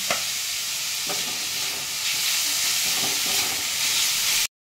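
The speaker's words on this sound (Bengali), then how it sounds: "এগুলোকে ভালো করে সতে করে দেব" Tomatoes sautéing in a pan with salt and a pinch of sugar, a steady close sizzle with occasional stirring scrapes throughout, no talking.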